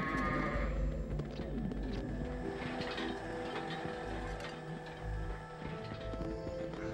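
Cotton candy sheep bleat in the Charlie and the Chocolate Factory video game, their soft repeated calls set among steady game music and mechanical background noise.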